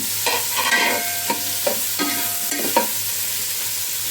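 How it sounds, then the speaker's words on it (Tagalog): A spoon scrapes and stirs tomatoes in a pot for pork sinigang in several distinct strokes over a steady sizzle, close and alone with no talking. "Saka, halo natin yung kamatis."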